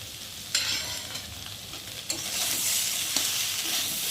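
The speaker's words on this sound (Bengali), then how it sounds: "এই মশলার সাথে সয়াবিনটা আলুটা ভালো করে কষিয়ে নেবো।" Soybean chunks and potatoes fry with turmeric, salt and spices in a hot pan, a continuous close sizzle with occasional scraping stirs that swell the crackle partway through.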